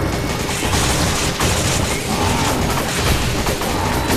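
Dense, loud gunfire roars almost without pause as parasites are shot during a truck chase in Resident Evil 5, with overlapping bursts and booms filling the whole stretch.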